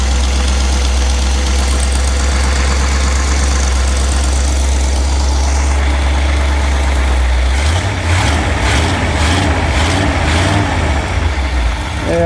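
An old car engine, just started after a few pumps of gas, idles loud and close with a steady low rumble, then stumbles into uneven, knocking pulses as it falters.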